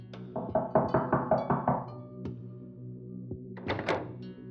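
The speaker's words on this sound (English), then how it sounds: "she heard a knock at the door." A knock at an office door sounds as a quick series of hollow thunks, several close raps in a row, then a pause, a couple of single taps and another short burst of knocks.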